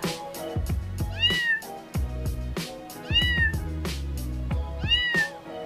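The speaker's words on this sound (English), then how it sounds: "It's all about kitty cats and a little bit more." A pet cat meows repeatedly with drawn-out, rising and falling cries, several distinct calls spaced over a few seconds, close and clear, over a low rhythmic background sound.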